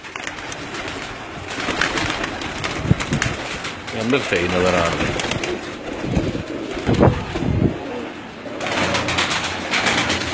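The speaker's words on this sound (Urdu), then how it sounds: "یہ جو فلائر کبوتر ہیں ان کے اڑنے والا جو اسکواڈ ہے" Flyer pigeons coo in a loft at a pigeon club in Sialkot, soft repeated burbling calls mixed with occasional wing flutters, heard close under someone talking throughout.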